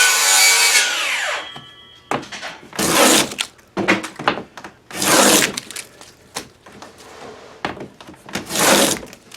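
A wood panel is hand planed with a replica 18th-century plane, giving loud, close shaving strokes in a series of separate bursts, each a rough swishing rasp followed by a short gap.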